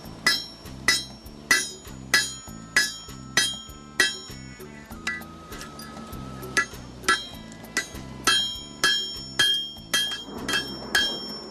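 Rhythmic hammer blows on a blade edge as a bevel is forged by hand, ringing metallic strikes about every half second, close and steady, with brief pauses mid-sequence and a faint tonal hum in the background.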